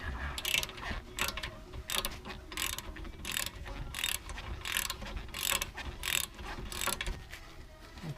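A hand ratchet clicks repeatedly as it backs out a bolt on the brakes of a 2014 Honda Accord sedan, a close, steady run of sharp pawl clicks in regular strokes.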